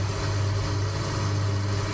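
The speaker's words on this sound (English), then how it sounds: "it's changing the note on the engine now as well" A Couzinet Arc en Ciel aircraft engine in Microsoft Flight Simulator 2020 holds a steady, droning hum at a constant pitch, moderately loud and unbroken.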